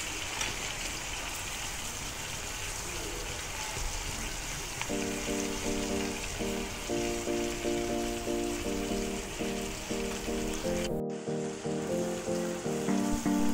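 Garlic and onions sauté in a pan for pork belly with carrots and potato, giving a steady, close crackling sizzle. Partway through a low repeating hum joins under it, and a brief sharp break comes near the end.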